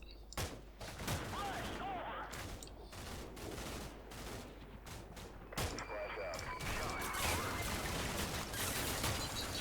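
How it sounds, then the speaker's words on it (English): Gunfire hits a small team in Combat Mission Shock Force 2, heard as faint, distant sharp cracks and bursts under steady battlefield ambience, with a person talking over it. "something takes a pot shot at this small team, doesn't it?"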